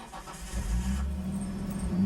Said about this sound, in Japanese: なんかもうエンジンの音も変わった気する